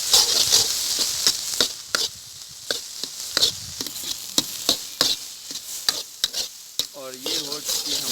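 A dish of flowers being mixed and fried in a pan, with rapid repeated spoon scrapes and taps over a loud hissing sizzle, close and busy, no one talking.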